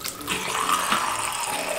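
A bathroom sink faucet runs steadily for about two seconds while toothpaste is being wetted, giving a continuous close splashing hiss of water with no talking over it.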